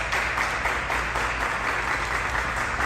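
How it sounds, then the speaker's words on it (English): Audience applause in a steady, dense wash of many hands clapping, held at an even moderate level through the short span without a break and with no talk. "How do they all stop clapping at the same time"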